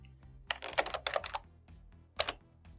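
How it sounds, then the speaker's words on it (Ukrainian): Someone types an answer on a computer keyboard during a programming lesson. A quick burst of close, distinct key clicks is followed after a pause by a couple more presses. "Ми повинні з клавіатури ввести значення."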